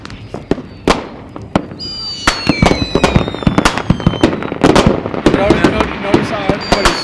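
Fireworks and firecrackers pop and bang on the Moapa reservation, a rapid series of sharp close blasts and crackles with some whistling rockets, while people talk in the background.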